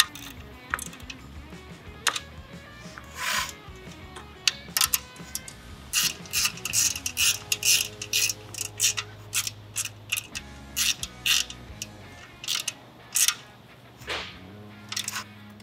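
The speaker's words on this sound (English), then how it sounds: "I'm just going to tighten it down using a 3/8 wrench and a 1/8 inch Allen wrench" Metal wrenches, a 3/8 wrench and a 1/8 inch Allen wrench, tighten the door cover plate on a RZR Pro R: irregular close clicks, ratcheting taps and small metallic clinks scattered through the stretch, with no talk.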